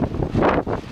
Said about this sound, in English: Is it too windy?